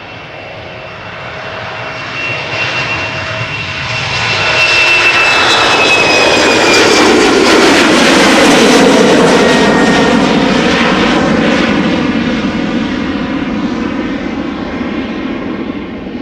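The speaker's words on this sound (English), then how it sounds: "behind it is Air Canada Flight 809, which will be going to Toronto. That's a 777-200 long range." An Air Canada Boeing 777-200 long range jet bound for Toronto takes off from Schiphol's Polderbaan runway, a loud, close engine roar that swells to a sustained peak with a sweeping whine and rumble, then slowly begins to fade, with no talk.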